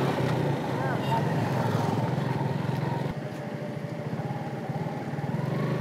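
A motorbike ride on the road out of Kathmandu toward Nuwakot, with a steady engine drone and wind rumble running throughout under continuous talk from the riders.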